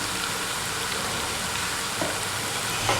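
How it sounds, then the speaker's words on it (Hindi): Garlic and ginger fry steadily in a hot pan for beef karahi, giving a dense, even sizzle that holds at constant loudness throughout with no talking. "इतनी प्यारी खुशबू आ रही है लहसुन और अदरक की फ्राई होने की"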